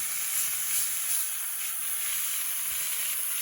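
Deer heart frying in oil in a pan, a steady, close sizzle that holds evenly throughout with no voices.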